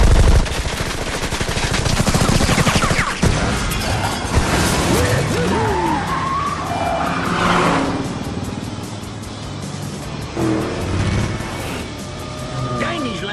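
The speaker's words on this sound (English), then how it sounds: "Gatling gun activated." Rapid Gatling gun fire from an animated car chase in Cars 2, loud bursts of gunfire mixed with engine revs, crashes and music, with voices speaking over the action.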